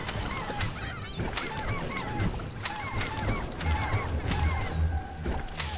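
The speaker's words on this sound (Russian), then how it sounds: "Куры бегут, но не добегают." Zombie chickens scurry in the Plants vs. Zombies 2 video game, a busy stream of clucking, honk-like squawks and quick game effects packed together, loud and continuous.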